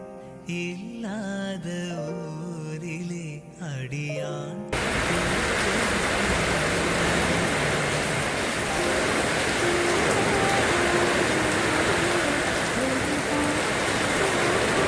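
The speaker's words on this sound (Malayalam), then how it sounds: "നല്ല മഴയാട്ടോ" Music plays briefly, then gives way to heavy rain pouring in a loud, continuous roar that fills the rest of the clip.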